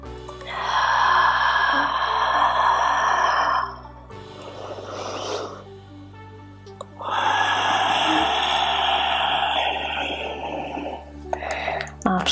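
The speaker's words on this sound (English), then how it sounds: "Ujjayi. Inhaling through the nose, exhaling, constricting the back of the throat." Slow ujjayi yoga breaths drawn and released through the nose with a constricted throat, two long hissing, ocean-like passes, each lasting several seconds, close and steady against a quiet room.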